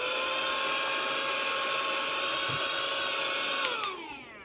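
A small vacuum cleaner runs on a laptop's cooling fans during repair work, a loud, steady high-pitched whine that holds constant, then winds down as it is switched off near the end.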